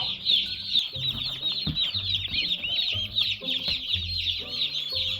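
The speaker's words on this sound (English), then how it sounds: "The turkeys can go in there for now." A busy flock of young turkeys peeping and chirping constantly in high, overlapping calls, with low clucks and shuffling scattered underneath.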